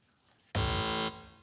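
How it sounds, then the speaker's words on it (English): A loud game show contestant buzzer fires once on a quiz show, a sustained harsh electronic tone lasting about half a second before cutting off, with no talk over it. "Fingers on buzzers, please."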